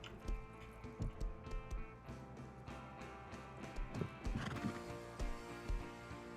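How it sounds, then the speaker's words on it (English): Horses in the game Rust stomp and whinny nonstop, with repeated clip-clop hoof thuds and neighs at close range. "Will you horses shut up with your damn stomping around?"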